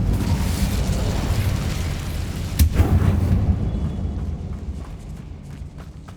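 A fiery Incendio spell cast in Hogwarts Legacy inside a spider-infested tomb: a loud whooshing blast with a sharp burst near the middle, then a rumbling decay that thins out toward the end.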